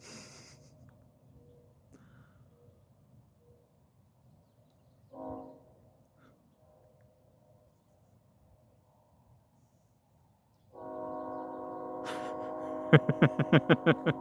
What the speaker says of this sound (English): There's a train in the distance, blaring its horn.